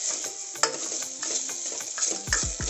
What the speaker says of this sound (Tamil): ஃப்ளேமு லைட்டாக மட்டும் கிளறி விட்டுக்கோங்க